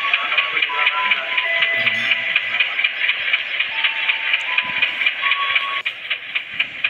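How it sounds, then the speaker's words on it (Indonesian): CC201 diesel locomotive idling steadily inside its cab at a station, a continuous dense engine drone with a faint rhythmic shuffle running throughout, loud and close, no talking. "lokomotif CC201 mesinnya telah dihidupkan"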